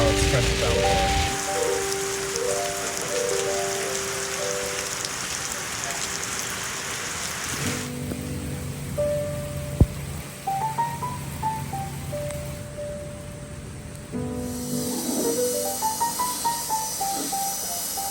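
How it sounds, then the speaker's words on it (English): Heavy rain pours down in a constant wash, with a faint musical tone and scattered noises underneath. "and now it's torrential downpour."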